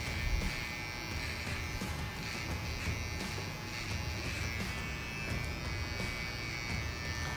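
Electric hair clipper with the finest, near-razor blade zeroing the sides of a man's haircut, giving a steady close buzzing drone that runs without pause throughout, no speech.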